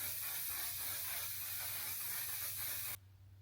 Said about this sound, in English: the setting spray of choice is none other than the One Size Until Dawn